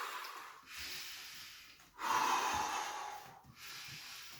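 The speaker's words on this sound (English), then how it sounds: "So I'm breathing." A person breathes deeply while dancing, long audible inhales and exhales in slow rhythm, close to the microphone and fairly soft, with no speech.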